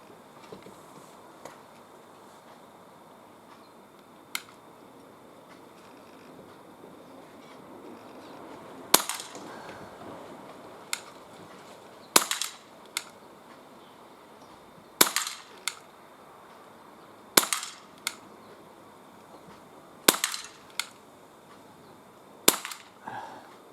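An Umarex CPS CO2 pellet pistol fires outdoors at about 12.5 meters, a series of sharp cracks spaced a few seconds apart, growing more frequent in the second half over quiet background.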